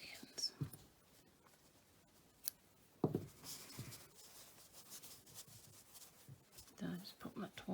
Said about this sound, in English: then we just cut the ends